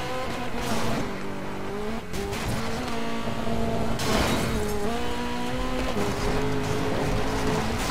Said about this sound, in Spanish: El que conduce Alejo T3 es un Alfa Romeo 4C Concept.